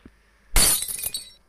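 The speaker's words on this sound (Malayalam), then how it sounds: "നമുക്ക് എത്ര പൊട്ടിക്കാൻ പറ്റുമോ അത്രയ്ക്ക് പൊട്ടിക്കുക" A bulb thrown and smashed in a mobile video game, one sudden bright shatter of breaking glass with a tinkling tail of fragments lasting under a second, close and alone.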